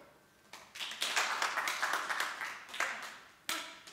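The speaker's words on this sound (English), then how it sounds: "can I get you all to clap once if you're on board?" Audience members at a talk respond with ragged, uneven clapping. Rather than a single unified clap, scattered hand claps come in bursts over a few seconds, then a final sharp clap, moderately loud in a quiet room.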